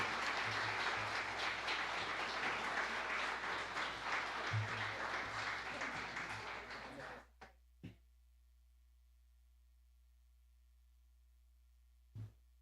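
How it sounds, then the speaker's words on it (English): Students' audience at a high school Teen of the Year evening gives a long round of applause for the ten finalists, steady and fairly loud for about seven seconds before cutting off, followed by a few isolated knocks. "let's give a round of applause to these 10 exceptional students, our finalists this evening"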